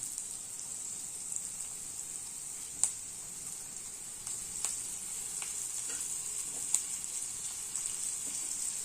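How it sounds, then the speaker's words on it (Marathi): Boiled tandulka greens sauté in a pan with a steady, close hiss and sizzle throughout, broken by a few light scrapes as they are stirred. "2-3 मिनिटे परतून घेऊया। चांगली हलवून घेऊया"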